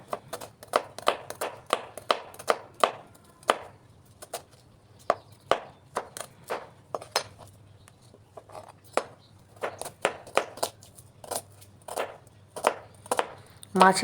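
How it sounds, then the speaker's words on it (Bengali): Knife chopping onion finely on a board for Bangladeshi fish bhorta, a fast run of sharp close taps, then scattered single chops and a second quick burst, with a soft low hum beneath. "পেঁয়াজটা কুচি কুচি করে কেটে নিচ্ছি"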